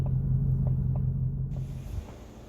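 Deep, throaty exhaust rumble from a 2019 Ford Mustang GT PP1 with the catalytic converters deleted, drawn out steadily with faint pulses, then shifting down in pitch partway through as the engine drops a gear; close and fairly loud, no voices.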